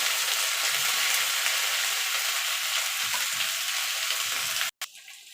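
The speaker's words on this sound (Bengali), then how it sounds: "এবার ডাঁটা কুমড়ো আলু একসঙ্গে একটুখানি ভাজা ভাজা করে নেব।" Drumstick pods, pumpkin and potato fry together in a pan, giving a steady, fairly loud sizzle and crackle with light stirring that runs alone for about five seconds before cutting out abruptly.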